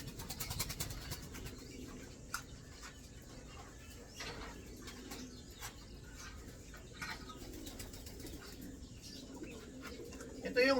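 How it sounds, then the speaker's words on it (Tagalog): Small cage birds in a breeding cage give soft cooing and calls with brief wing flaps, a steady faint chorus close by with low background noise throughout. "O ayan yung mga ibon natin."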